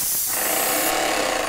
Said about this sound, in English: That's a very consistent spray.